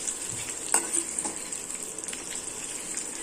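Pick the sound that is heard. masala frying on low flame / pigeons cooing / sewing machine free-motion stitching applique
masala frying on low flame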